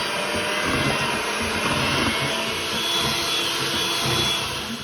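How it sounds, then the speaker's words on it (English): An electric hand mixer whirs steadily as it beats mayonnaise into a cranberry mixture, a constant close motor drone lasting throughout. "I'm gonna beat that in until light and fluffy."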